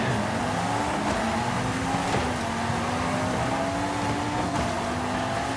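A Cupra Formentor VZ5 Concept car racing in Forza, its engine droning steadily with rising and shifting pitch through gear changes, loud and continuous with no talk.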